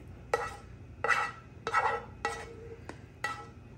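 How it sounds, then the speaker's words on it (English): Fried onion and mushrooms are scraped into a pan for grilled Polish golumpki, with about six distinct clanks and scrapes of a utensil against the cookware, spaced roughly evenly, with faint sizzling between them. "Now let me add the onion and the mushrooms that I fried."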